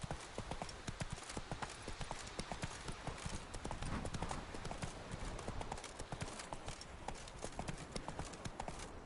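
Horse hooves clip-clop in a steady trotting rhythm in The Witcher 3, the rapid hoofbeats close and continuous, with faint voice underneath.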